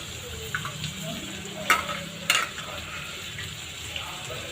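Mint and coriander leaves with salt sauté in a pan for mutton biryani, a soft, low sizzle joined by a few sharp stirring scrapes and clinks close by.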